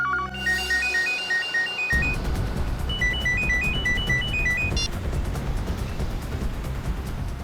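A phone ringtone plays a repeating melodic pattern of short electronic tones over steady low road rumble.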